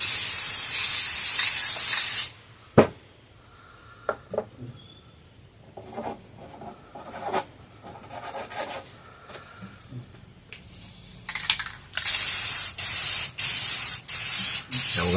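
Spray can of clear coat hissing over finished spray paint art, a long loud burst followed by quieter handling and clicks, then a run of short repeated sprays at the end.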